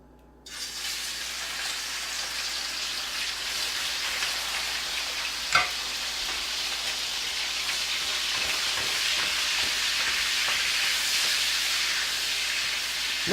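Meat stir-frying over a wood fire, a steady loud sizzle and hiss that starts abruptly and holds continuously, with a brief sharp crackle midway and faint clatters of stirring.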